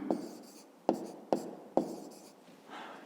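Pen strokes writing a number by hand on paper, a few sharp taps and scratchy scribbles spaced across the moment, close and fairly quiet.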